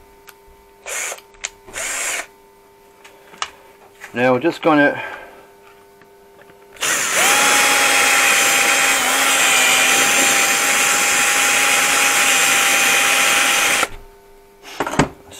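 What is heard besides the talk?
electric drill boring a hole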